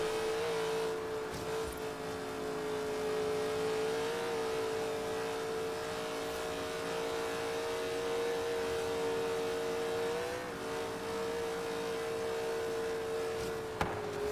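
A car engine in the racing video game Forza Horizon 3, tuned for handling and acceleration, holds a steady, even drone throughout, with a brief sharp click near the end.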